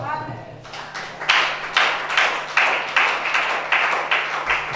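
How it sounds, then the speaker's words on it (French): A church congregation claps in steady, loud rhythmic bursts, about one clap every half second after a brief opening, with a low sustained hum beneath. "Acclamez chacun."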